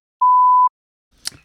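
A single clean electronic timer beep of about half a second sounds alone, followed after a short pause by a brief soft clatter.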